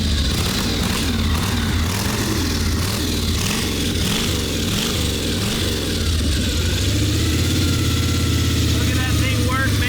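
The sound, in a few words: 1928 Finnegan Spear engine running and revving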